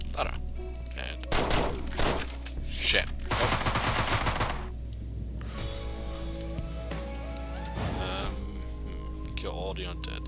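Rapid gunfire from the video game Deadbolt, loud bursts and single shots crackling in clusters with game sound effects between them, while someone talks and swears over the action.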